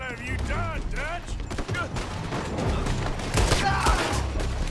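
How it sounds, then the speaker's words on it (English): Enemy gunfire in Red Dead Redemption 2 during a shootout with Pinkertons, a dense fusillade of close, sharp shots mixed with game shouting and clattering mechanisms. "You got people from behind shooting this."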